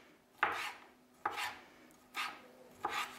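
A knife chops sticky candied cherries on a cutting board for cookies, four distinct close cuts spaced under a second apart, each a sharp tap followed by a short soft squish.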